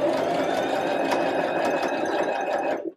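A sewing machine stitching a seam on a reversible dress, running loud and close as one steady mechanical whir with a fast rhythmic needle chatter for about three seconds, then stopping abruptly.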